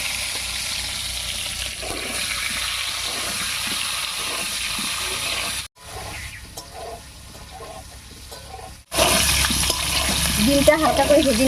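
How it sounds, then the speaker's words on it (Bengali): Eggs rubbed with turmeric and salt fry in hot oil for an egg curry, a loud close sizzle that drops to a quieter crackle midway before surging back strong, with faint bubbling and spatter. "ডিমগুলোর মধ্যে হলুদ লবণ মাখিয়ে ভেজে নেব।"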